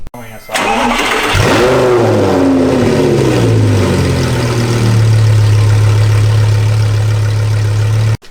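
An Audi R8 V10 Plus engine with straight-pipe exhaust cranks and fires, revs up briefly, then settles into a deep, steady idle that runs on, loud and close.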